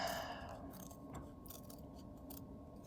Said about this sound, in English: So cut out a circle that's roughly the size of a iPhone's home button.